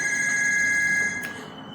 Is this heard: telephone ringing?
yes